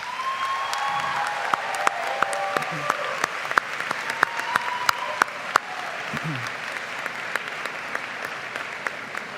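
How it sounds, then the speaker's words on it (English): Rousing applause from a crowd at a university graduate commencement ceremony, steady dense clapping with a few sharper claps standing out and faint murmuring voices underneath. "Can you please join me in giving them a rousing round of applause?"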